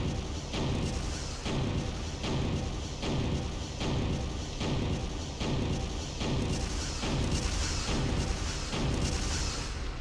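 Mask de Smith from Killer7, in his final upgrade, fires insanely fast in a loud continuous barrage of booming, thudding gunshots with a steady rapid rhythm and no talk.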